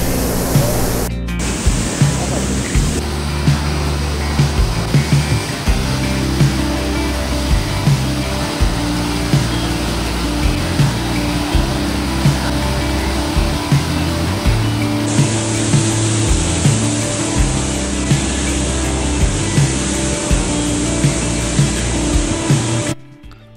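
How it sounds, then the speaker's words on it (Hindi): Waterfall near Barog in Himachal Pradesh's Solan district, a loud, steady broadband rush of falling water that fills the whole stretch without pause, close by, with rumbling low tones underneath. "तो चलो भाई अभी पास से जाके आपको दिखाते हैं वाटरफॉल"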